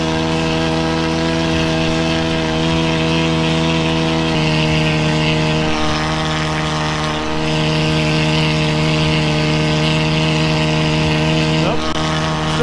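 An AliExpress paramotor engine running steadily at around 4,800 RPM in flight, a loud, sustained buzzing drone with a near-constant pitch that dips slightly now and then, heard close up and alone.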